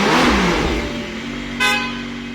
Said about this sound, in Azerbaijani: Mercedes AMG One.